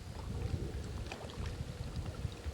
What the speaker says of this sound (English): The motor's revving.